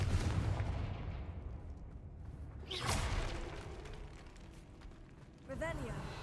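A Confringo fire-blast spell going off in Hogwarts Legacy, two booming whooshing bursts a couple of seconds apart with rumbling tails, mixed in with game sounds and a voice.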